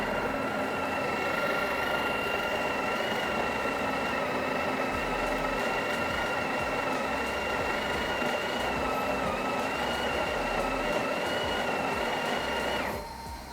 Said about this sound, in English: Here you can see that it's going to grind and then tamp